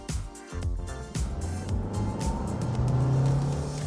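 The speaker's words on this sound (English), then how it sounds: "this powertrain very adequately moves such a large vehicle as the Carnival" A 2025 Kia Carnival minivan pulls away and accelerates on a road test, its engine note steady and rising under continuous road and wind noise, with no talking.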